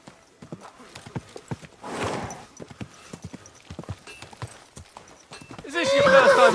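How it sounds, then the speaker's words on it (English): Horse hooves clip-clop in steady, close strides while riding in the video game Kingdom Come: Deliverance 2, under speech, with a horse neigh near the end. "Is this your first time riding a horse"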